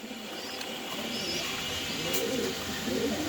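Pigeons coo at a farm, a couple of soft rolling coos in the latter half over a steady hiss of room noise, with faint chirps higher up.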